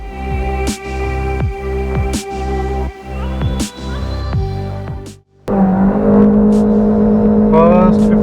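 Toyota Yaris engine pulling hard through its gears during a road-test run, loud and continuous with rising pitch sweeps broken by brief shift dips, then a sustained high-rev drone to the end.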